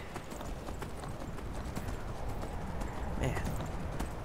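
A horse gallops in the video game Skyrim with steady, quick clip-clop hoofbeats that continue close and even for a few seconds.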